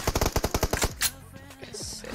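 A rapid burst of about eight loud gunshots from a mobile shooter in a 2v2 TDM match, followed by a sharper single shot and fading game effects.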